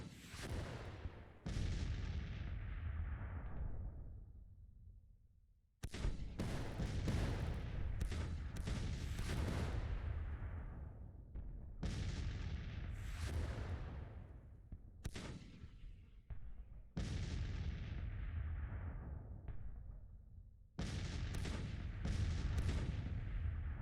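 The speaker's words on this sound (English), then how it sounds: "I think we broke these guys with just artillery." Repeated heavy artillery barrages in Grand Tactician: The Civil War, long rolling booms and crackling volleys in several dense bursts with brief gaps, loud and sustained, no talk.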